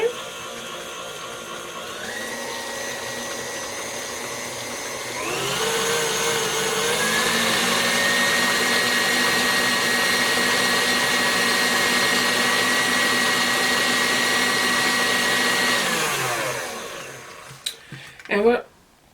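An electric mixer beats peanut butter cookie dough with a steady motor whine that steps up in speed twice early on, runs loudly and evenly, then winds down and stops with a few clattering knocks.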